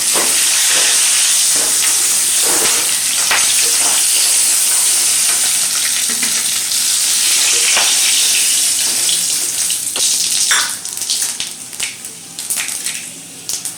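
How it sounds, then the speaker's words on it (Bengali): Fish heads fry in hot oil for a Bengali pui saag (Malabar spinach) dish, giving a loud, steady close-up sizzle with a few clattering stirs near the end. "মাথাগুলো ভাজা হয়ে গেছে, এবার আমি তুলে নেব।"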